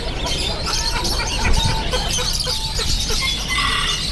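Polish chickens, both smooth-feathered and frizzle-feathered, cluck steadily at a poultry shop in Chatuchak market, a busy continuous mix of hen chatter with other bird calls nearby.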